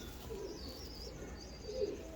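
Domestic pigeons in a loft of fourteen birds give two soft, low coos against a quiet background, with faint chirps higher up.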